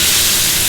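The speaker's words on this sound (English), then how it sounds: "Sear off all the sides." Meat shank searing in a hot pan for a braise, a loud, close, continuous hiss and sizzle with no pauses and no talk over it.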